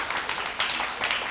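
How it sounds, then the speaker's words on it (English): An audience applauds in a hall, giving a short, brisk patter of many hands clapping at moderate loudness. "So please clap."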